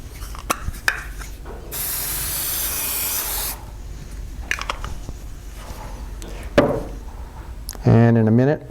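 Two bursts of CA glue accelerator spray hiss over a guitar neck under construction, a long spray lasting about two seconds, then a brief second spritz near the end, with scattered handling clicks between.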